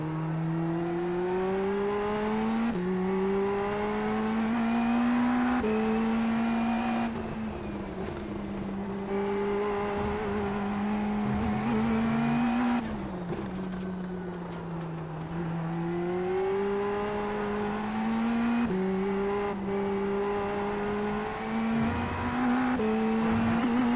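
An Indy NXT open-wheel race car pushed hard around VIR in iRacing, its engine screaming continuously up and down through the revs with gear changes, close and loud with no talking.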